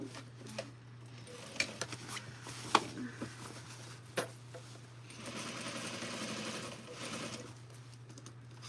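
A home sewing machine stitches fabric during a live sewing session, its motor whirring steadily with a low hum and irregular clicks and taps, fairly faint and heard alone without talk.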